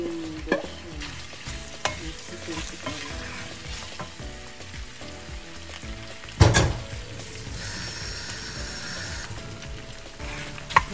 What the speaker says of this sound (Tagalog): Fry natin.